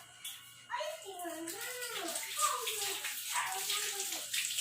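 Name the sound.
washing lemons in a kitchen sink with water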